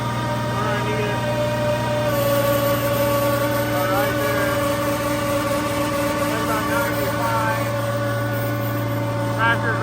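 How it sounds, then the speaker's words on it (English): A tractor engine runs under load on a dyno with a steady, droning hum and whine. It holds constant and loud throughout, with some speech over it. "Tractor's running pretty darn good right there."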